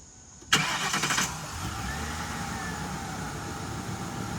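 A 1995 Lincoln Town Car engine cranks and catches abruptly, roaring briefly loud and rough before settling into a steady idle, heard up close with no talking.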